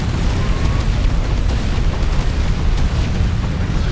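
A dense, continuous roar of explosions fills the space as an HQ building is destroyed by the Atlas ability in the strategy game Art of War 3, loud and rumbling throughout, with no speech.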